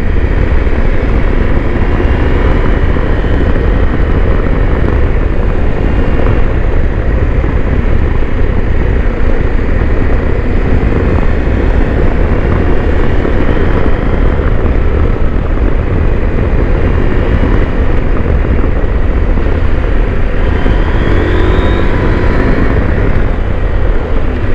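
Husqvarna Norden 901 motorcycle engine riding on a street, a loud steady drone with a constant low rumble and wind roar lasting throughout, without talk.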